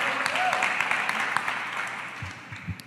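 A church youth congregation gives sustained applause for Jesus, a broad wash of many hands clapping in a reverberant hall with faint cheering voices, easing off toward the end.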